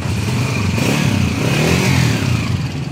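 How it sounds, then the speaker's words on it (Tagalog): A 2005 Honda Mulawin motorcycle engine idles near and loud, a steady mechanical clatter with a continuous throbbing hum and no talk over it. "pakinggan natin kung paano kaingay ang makina ni Boss Idol from Angeles City, Pampanga."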